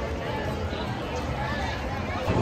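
Crowd chatter and babble around a tuba player with a lit-up tuba and performers dressed as elves at Disney Springs during the holidays, a steady murmur of many voices close by.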